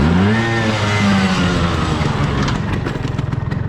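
A scooter engine runs loud and close in neutral, a steady rumbling idle that shifts in pitch early on before settling into an even, pulsing putter for several seconds.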